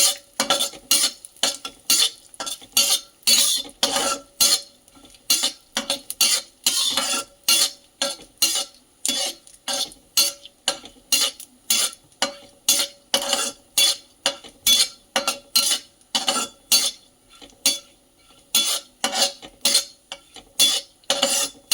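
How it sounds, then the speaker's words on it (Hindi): A spoon or spatula stirs chironji seeds roasting in a pan, making a long run of regular, rhythmic scraping and rattling strokes about twice a second. The sound is close, fairly loud and continuous, with no voices. "तो फ्रेंड्स, मैं चिरौंजी भी थोड़ी सी रोस्ट कर लूँगी इस तरह से।"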